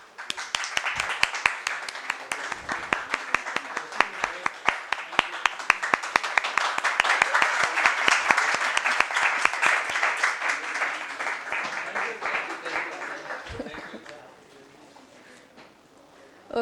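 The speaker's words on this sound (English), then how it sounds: "I would request all of you to give a big round of applause for our technicians who are here" A room of attendees at a hands-on ERCP medical course claps for the technicians, with sharp individual claps that swell into full applause and then thin out and fade near the end.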